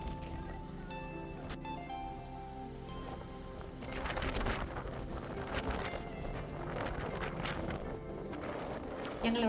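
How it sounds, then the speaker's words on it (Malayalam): Strong gusting wind on the Palakkayam hilltop on a foggy, drizzly day buffets the microphone, building into louder, rougher rushes partway through, with faint voices in the background. "എത്ര ശക്തിയിലാണ് അവിടെ കാറ്റ് വീശുന്നത്"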